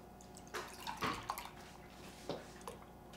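Liquid poured into a measuring cup in a kitchen, giving a few short splashing gurgles close by, quiet and with gaps between pours.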